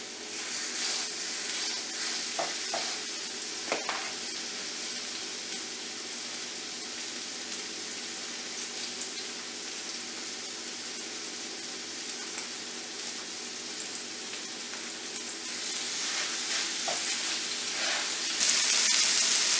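Hamburger patties sizzling in a hot pan on high heat, a steady, even frying hiss that runs without a break and swells slightly near the end, with a few faint clicks and no talking.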